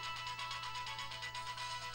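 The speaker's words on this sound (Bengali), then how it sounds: "ঝিলের ফোন।" A phone ringtone plays steadily throughout, a bright repeating electronic melody with no voices.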